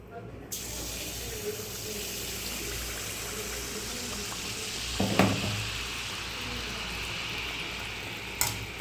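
Pitha cakes made with date jaggery fry in hot oil, producing a steady, moderately loud hiss with a few sharper splashes as oil is spooned over them.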